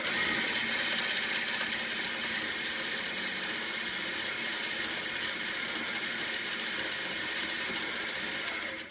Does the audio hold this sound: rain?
no